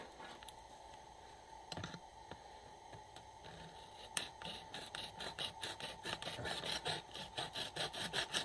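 A knife saws open a bag of whole-bean coffee with rhythmic rasping strokes that build and speed up after a few scattered scrapes and crinkles, close and fairly quiet.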